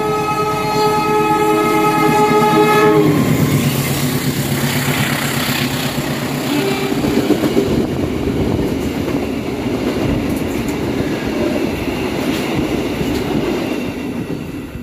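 A Pasundan passenger train passes close by at a railway station, opening with a loud sustained multi-tone horn that gives way to heavy rumbling and rhythmic wheel clatter of the carriages rolling through.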